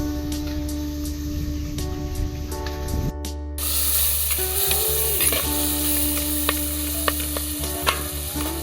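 Onions, curry leaves and tomatoes fry in a pan for a gongura chicken curry. A quieter clatter is followed partway through by a jump to loud, dense sizzling, with scraping stirs and clinks over a constant background hum.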